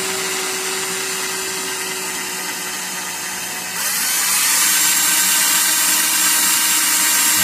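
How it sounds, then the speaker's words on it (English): Power tool deburring a carburetor part, a steady high-pitched whirring grind that grows louder and brighter halfway through, close and continuous with no talking. "Continue deburring this bad boy."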